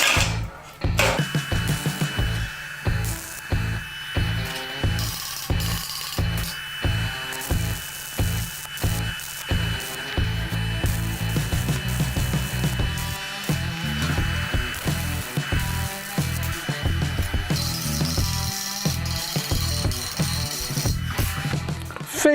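Welding beads on a steel sliding gate produce a close, loud crackling buzz that breaks into rapid stuttering bursts and short pulses, running nearly continuously with no voices.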